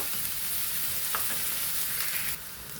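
Spices frying in sunflower oil for a Kerala-style tuna dry curry, a steady close hiss of sizzling with a few faint stirring scrapes, the crackle dropping slightly near the end.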